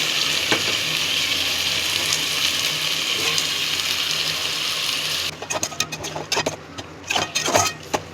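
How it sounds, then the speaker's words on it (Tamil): Chicken pieces sizzle loudly in oil with ginger garlic paste and curry leaves, a steady frying hiss that breaks into sharp crackles and spatters as the meat is stirred and tossed, with no talking. "சிக்கனை ஆட் பண்ணி நல்லா ஒன்றோட ஒன்று பரட்டி விடணும்."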